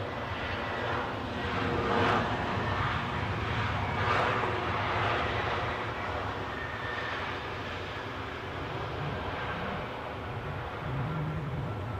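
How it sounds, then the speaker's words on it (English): A British Airways Airbus A320 arriving from Mykonos roars past while landing at London Heathrow, its broad, steady engine rumble and whine loud and continuous throughout, swelling slightly near the start and easing gradually toward the end. "it'll be a British Airways 320 from Mykonos"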